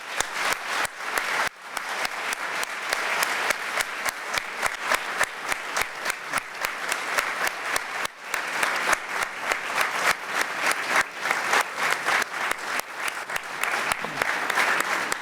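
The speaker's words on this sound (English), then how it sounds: "join me in the round of applause to thank our guests this evening" Audience applause at an evening panel discussion: a large crowd claps steadily and densely for about fifteen seconds, loud and continuous with no talk over it.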